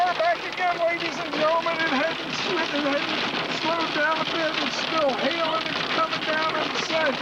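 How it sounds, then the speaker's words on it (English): Hail pounds steadily onto a vehicle's windshield during a South Dakota hailstorm, a dense, continuous patter under a voice talking throughout. "It's still hailing. It's coming down."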